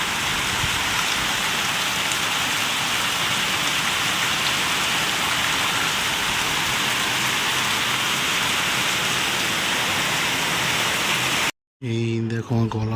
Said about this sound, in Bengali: ঝমঝম করে বৃষ্টি পড়ছে সকাল সকাল